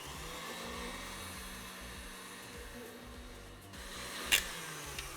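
An electric mixer whirs steadily as it beats cream cheese and sugar for a burnt Basque cheesecake, a quiet continuous hum with a brief clatter near the end.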